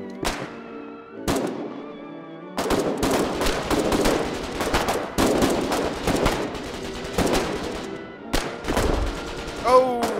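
Gunfire and a grenade blast in the war game Foxhole, with rapid bursts of shots, heavy impacts and a louder explosion late on, close and loud. Voices talk over the combat.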